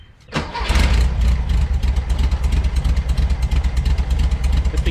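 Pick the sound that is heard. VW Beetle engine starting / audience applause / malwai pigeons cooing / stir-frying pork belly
VW Beetle engine starting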